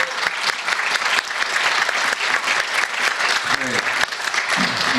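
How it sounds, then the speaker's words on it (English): A church congregation at an Easter service breaks into sustained, dense applause that fills the room, loud and continuous throughout, with a few faint voices underneath. "You can applaud"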